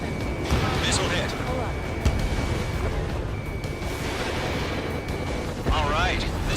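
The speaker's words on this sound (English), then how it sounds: "Missile hit." In the Ace Combat 7: Skies Unknown video game, a missile hit lands as a rumbling explosion over the steady roar of jet engines, with radio chatter and warning tones running through it.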